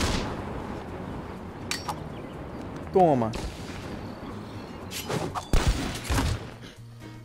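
Several heavy, booming shotgun blasts in the mobile game Zooba go off at irregular intervals amid background clatter, with a person's voice speaking briefly between blasts.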